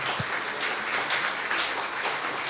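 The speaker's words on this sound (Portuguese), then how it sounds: "Para você aplaudir." Applause from a church congregation at a Portuguese-language sermon, a steady wash of many hands clapping at moderate volume with no voices over it.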